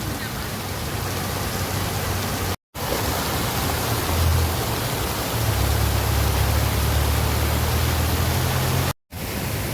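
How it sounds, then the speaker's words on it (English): Water fountains splashing in a city square in Georgia, a steady broadband rush of falling water that continues through the whole stretch, with a couple of brief cut-outs. "There's some nice fountains here"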